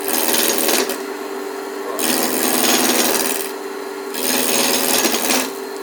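A roughing gouge cuts a spinning piece of wood on a lathe, producing a loud continuous rasping hiss that swells and eases in three long passes, with the lathe's steady tone running underneath.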